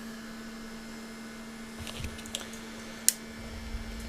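A small filament dryer beside a 3D printer gives off a steady, low, even hum throughout, with a few faint ticks and clicks over it.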